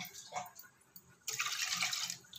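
Water poured from a jug into a pot of meat and lentils for a wedding dalcha, a soft splash at first, then a steady, louder pour through the second half, close by.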